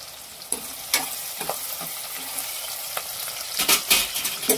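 Curry leaves, onions and garlic frying in a pan, a steady crackling sizzle with sharp spatters and bursts of stirring, growing busier toward the end, with no voices.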